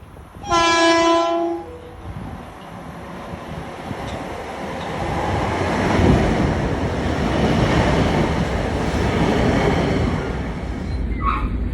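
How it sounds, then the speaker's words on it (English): A commuter train bound for Penn Station, New York, sounds its horn loudly at the start, then the steady rumble and rattle of the passing train builds and continues until the end. "This is the train to Penn Station."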